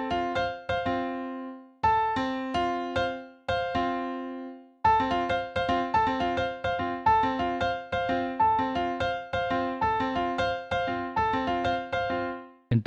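Piano plays a Dominican merengue tumbao with both hands, bright syncopated chords over a bass line in a steady, bouncy rhythm, alone and close with short pauses between phrases.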